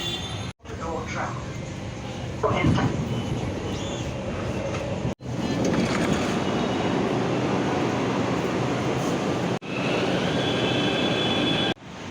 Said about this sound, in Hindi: झिलमिल मेट्रो स्टेशन पे उतरा हूँ मैं अभी